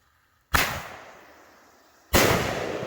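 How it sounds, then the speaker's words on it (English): A Winda Strong Man 16-shot firework cake firing outdoors: two loud, sharp launch bangs about a second and a half apart, each trailing off in a long hissing crackle. "So let's fire up strongman and let's see what it's all about."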